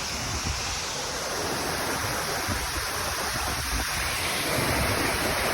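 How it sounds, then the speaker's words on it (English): A waterfall and river pour in full spate outdoors, making a loud, unbroken rushing roar of water that fills the whole scene. No voices are heard over it. "Water's flowing like crazy today."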